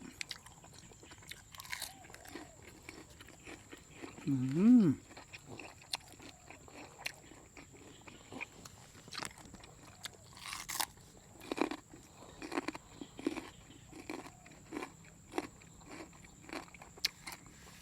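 A dog crunches and chews on a bone from a German pork knuckle, with repeated close gnawing and cracking bites spread across the span, one louder burst early on, and no voices.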